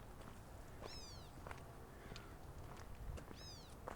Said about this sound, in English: That's a California gnatcatcher calling.